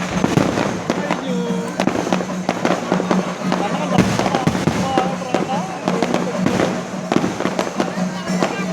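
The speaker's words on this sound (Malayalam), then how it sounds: "അങ്ങനെ ഇതാ റോട്ടിലോട്ട് ഇറങ്ങി നിന്ന് കാണുകയാണ് കേട്ടോ വെടിക്കെട്ട്." Temple festival fireworks at a pooram, watched from the roadside, burst in a dense run of sharp cracks and booms that carry on steadily throughout, with crowd noise and voices underneath.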